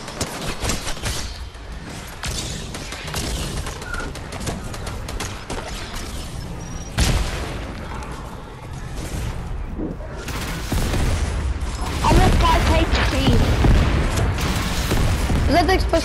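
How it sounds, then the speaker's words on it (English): An explosive goo gun fires in Fortnite zombieland gameplay, with repeated booming bursts and crackling blasts growing denser and louder toward the end, mixed with constant game noise and talk. "I'm gonna try using a little bit more of the explosive goo gun"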